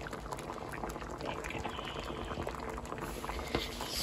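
Ginataang saging with sweet potato and jackfruit bubbles at a steady, continuous boil in a pot, a dense burbling simmer heard alone and close up.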